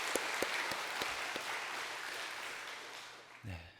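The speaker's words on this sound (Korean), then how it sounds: "하나님께 감사와 영광의 박수를 한번 올려드리도록 하겠습니다" A church congregation applauds at a dawn prayer service, with a few sharp claps at first, then a steady wash of clapping that fades toward the end, where a voice begins to speak.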